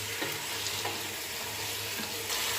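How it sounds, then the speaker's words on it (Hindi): Masala being slowly stir-fried with a spoon in a pan for chicken aloo shorba, a steady close sizzle running throughout with soft scraping stirs at intervals and no talking. "अब चम्मच को आहिस्ता आहिस्ता से हिलाते जाएं और इस मसाले को 5 से 6 मिनट के लिए भुनें"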